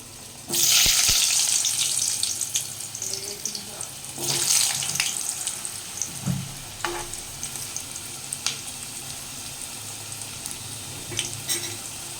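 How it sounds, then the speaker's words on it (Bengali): Potatoes fry in hot oil in a home kitchen, a steady sizzle with bursts of louder crackling, likely as the potatoes go into the pan, and scattered stirring clatter, all heard close up without talking. "এবারে আমি আলুগুলো ভালো করে ভেজে নেব।"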